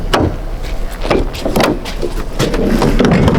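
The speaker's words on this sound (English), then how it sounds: "The doggy door closed on me." A doggy door swings shut with a few sharp knocks and rattles spread across a few seconds, loud and close, with no talking over it.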